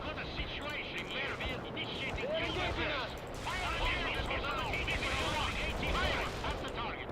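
Battlefield gunfire in the real-time strategy game World in Conflict, Soviet Assault, with dense overlapping shots and crackling bursts throughout, mixed with game effects and speech in the background.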